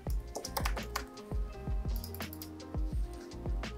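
Quick, crisp keystrokes on a computer keyboard as a name is entered in After Effects, an uneven burst of clicks up close with no talking.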